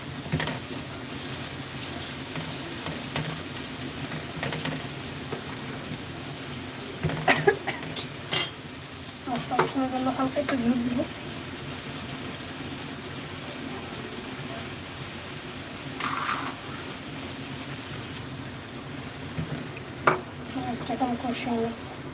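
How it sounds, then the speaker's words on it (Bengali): Cumin and coriander powder sizzle as it is sautéed in a pan, with steady frying hiss and intermittent scraping and clinking of a stirring utensil against the pan, with occasional voice in the background. "দিয়ে দেবো জিরার গুঁড়ো ধনিয়া গুঁড়ো কষিয়ে নেবো ভালো করে"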